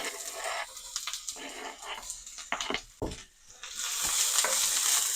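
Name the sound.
onion frying in avocado oil in a pan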